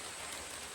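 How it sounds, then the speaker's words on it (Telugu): Heavy rain falling outdoors in hilly country, a dense, even hiss of drops filling a brief moment, steady and fairly soft with no voices. "ఫుల్ వర్షం పడుతుంది"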